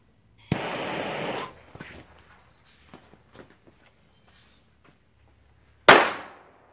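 Two sharp, loud bangs from a flash powder firecracker: one at the start with a short rushing burst, then quiet crackling debris, and a second powerful blast near the end.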